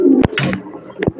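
Domestic pigeons coo in short, close, resonant bursts, two or three calls with brief pauses between them and no talking.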